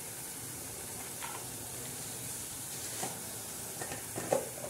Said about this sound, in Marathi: असा मसाला छान असा खमंग असा भाजून तळून घेणार आहोत चांगला